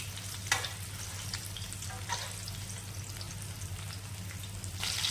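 Fish frying in oil in a pan over a low to medium gas flame, a soft, steady crackling sizzle with a low hum beneath and a few brief pops, heard alone.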